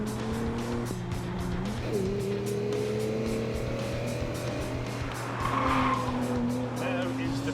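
A Rimac electric sports car drives on a track, its high motor whine rising and falling in pitch with a brief tire squeal, loud and fairly close, while people talk over it.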